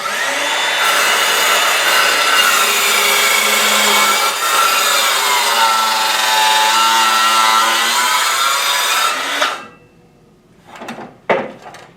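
Battery-powered saw cutting through wood for a nightstand, with a loud, sustained rasping whine whose pitch sags as the battery weakens, then stops, followed by a few short clunks.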